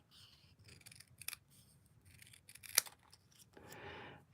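Scissors snip through a paper card sentiment in a quiet craft room, giving a few soft, scattered cuts with one sharper snip, then a short rustle of paper.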